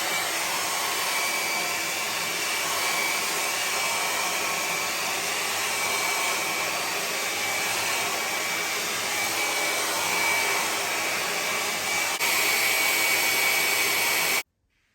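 A hair dryer blows on a wig during installation, a loud steady close whooshing hum that runs unbroken for about fifteen seconds before cutting off abruptly.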